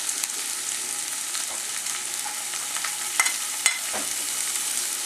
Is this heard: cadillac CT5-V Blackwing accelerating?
no